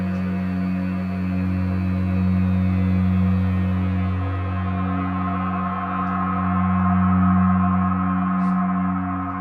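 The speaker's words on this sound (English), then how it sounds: "combine one pad sound in the lower frequency range and another one in the mid and high range" Two sustained synth pads layered together, a deep low drone beneath a brighter shimmering upper layer, steady and smooth throughout with no voices.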